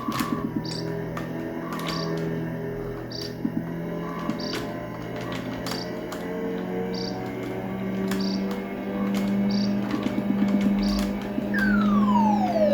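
A continuous wailing police siren from the Amiga racing game Test Drive II: The Duel, with regular electronic tones and engine hum underneath, steady throughout like a game soundtrack.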